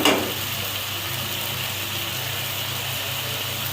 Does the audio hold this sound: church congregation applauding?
no